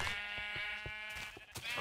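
Minecraft sheep give a loud, wavering bleat that fills the whole moment, with pulsing game sounds underneath.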